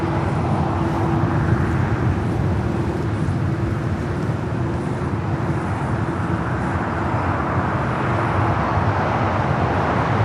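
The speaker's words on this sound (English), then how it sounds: "The Dreamliner coming in from Tokyo. Haneda." Boeing Dreamliner arriving from Tokyo Haneda and landing, a steady, loud, broadband jet roar with a low engine hum held unchanged across the whole span.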